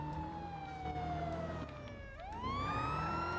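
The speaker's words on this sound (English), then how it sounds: "Turn the siren off." A police car siren in the video game GTA V, played in a NoPixel 4.0 roleplay server, wails steadily up close, its pitch sweeping down and then climbing back up, with nobody talking.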